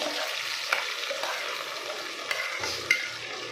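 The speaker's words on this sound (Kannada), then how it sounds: "ಇದರಲ್ಲಿ ಆಯಿಲ್ ಸಪ್ರೇಟ್ ಆಗೋವರೆಗೂ ಚೆನ್ನಾಗಿ ಫ್ರೈ ಮಾಡ್ಕೋಬೇಕು" Ground masala frying in oil for brinjal sambar, a soft, fairly quiet sizzle with occasional stirring scrapes and light utensil taps, no talk.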